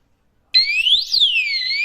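A loud electronic alarm siren from a motorcycle disc lock starts abruptly after a short silence when struck, a piercing rising-and-falling wail that continues steadily.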